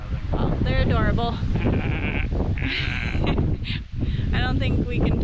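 Sheep bleat on an Irish roadside walk while people chat and coo over them, the wavering cries coming several times close by, mixed in with the talk.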